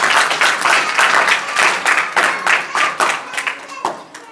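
A church congregation claps loudly and steadily in rapid, dense bursts, the applause filling the space with only brief dips before a final swell.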